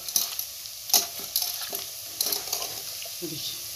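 Boiled radish greens mixed by hand in a home kitchen, soft wet squelching and rustling in short irregular bursts, close and fairly loud, with no talking.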